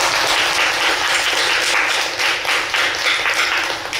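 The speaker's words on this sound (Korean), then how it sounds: "박수 한번 치고 시작할까요?" An audience in a Buddhist temple's main hall claps together, a dense and loud burst of applause that fills the room and holds steady throughout.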